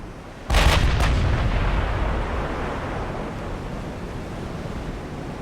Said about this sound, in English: I definitely want to see my ships fire a couple of times.